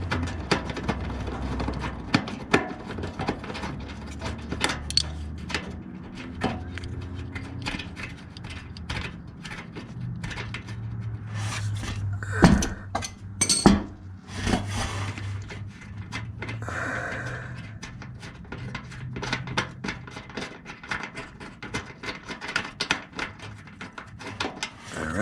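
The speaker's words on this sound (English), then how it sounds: "Take the socket on, get it loose, and then spin it off like this." A socket wrench ratchets loose a fender bolt on a Foxbody Mustang, then the socket spins it off, making a steady close run of ratchet clicks and small metallic turns.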